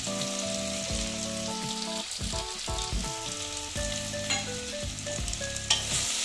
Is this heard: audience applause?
no